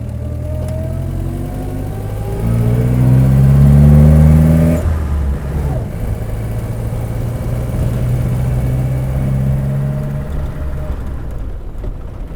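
A Standard 12 Deluxe Saloon with a Wilson pre-select gearbox revs up loudly, then drops sharply as the clutch is pressed and a new gear engages, leaving a steadier engine drone from inside the car.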